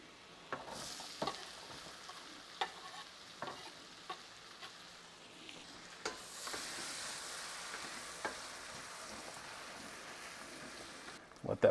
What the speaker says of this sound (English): Before that gets too sizzly, I'm going to add in our onion.